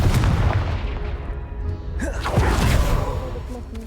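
The Confringo blasting spell in Hogwarts Legacy going off in a quest at an estate, a series of booming thumps and a rumbling burst with a swooshing sweep, close and fairly loud over game ambience.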